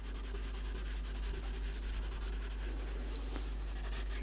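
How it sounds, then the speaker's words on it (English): A pencil is pressed hard to shade dark tones on paper in a Stonehenge drawing, making a continuous close, gritty scratching with quick repeated strokes. It is faint overall, with no talking. "really put your weight on the pencil."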